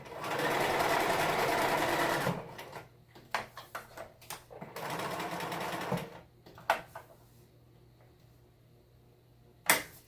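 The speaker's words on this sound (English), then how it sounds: "Reverse stitch. Back to forward stitch." Domestic sewing machine stitching a costume, two bursts of running stitch, a reverse pass then forward, separated by clicks and handling noises, with a sharp snap near the end; close and alone.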